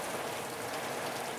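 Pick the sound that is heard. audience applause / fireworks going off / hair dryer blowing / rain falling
rain falling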